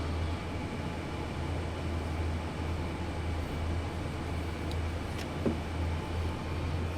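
An SD40 diesel locomotive accelerating in the Train Sim World 5 simulator on the Clinchfield Railroad: a steady, deep engine drone with low rumbling throb, constant and moderately loud, with a few faint clicks and no talk.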